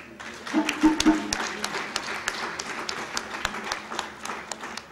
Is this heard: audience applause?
yes